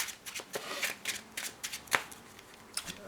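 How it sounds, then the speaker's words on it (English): Rapid power shuffling of a deck of trading cards for a Pendulum Magician deck, heard as a run of crisp riffling card slaps in quick irregular bursts, close and alone. "So yeah, power shuffling."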